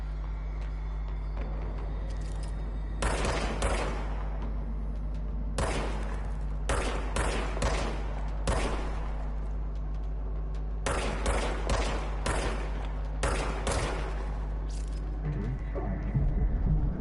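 Repeated bursts of rapid gunfire from a gun in the video game Control, several clusters of loud cracking shots separated by short pauses over a low steady hum.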